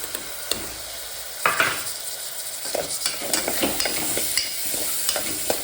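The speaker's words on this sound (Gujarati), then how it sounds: "બરાબર હલાવીને એમાં મોરૈયો નાખી દેવું" Barnyard millet stirred in a hot pan, a spoon scraping and rustling in irregular strokes over a soft steady sizzle.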